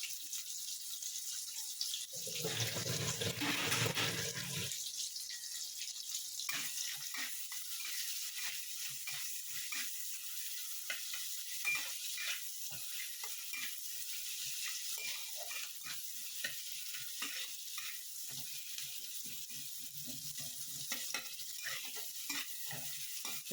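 Chopped onion and green chilli sizzle steadily in hot oil in a pan, with a louder hissing burst early on, then a continuous crackle broken by the scrape and clatter of stirring.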